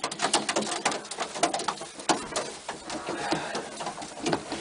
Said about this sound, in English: Two of my pigeons are over there mating.